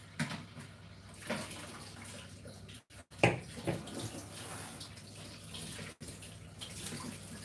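Vegan brownie batter pours from a bowl into a baking tray in a steady, soft liquid rush, close by, broken by a couple of brief clatters near the middle.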